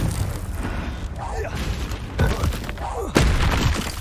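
The Confringo blast spell from the Hogwarts Legacy video game explodes in a muffled boom, followed by a sharper second impact amid rumbling game noise. No one speaks.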